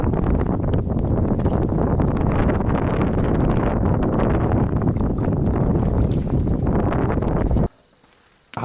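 Strong wind at Soyang Lake during a fishing outing roars loudly against the microphone in a continuous buffeting rumble, then drops away abruptly just before the end.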